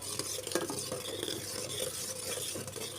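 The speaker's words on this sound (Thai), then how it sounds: "วุ้นก็เดือดแล้วนะคะ เราก็คนไปเรื่อย ๆ สักสามนาที" A ladle stirs boiling agar jelly in a cooking pot, giving a steady, close scraping and swishing with a soft bubbling simmer underneath and no voices throughout.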